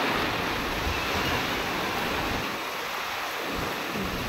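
Steady rain falling outdoors on a rooftop, a broad continuous hiss with rumbling low noise underneath, loud and unbroken with no talking.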